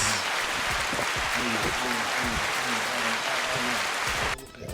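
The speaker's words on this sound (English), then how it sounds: "We got to give y'all some special round of applause for this." A studio audience applauds at a podcast taping, a dense, steady wash of clapping close by that runs for several seconds before thinning out at the end, with voices mixed in underneath.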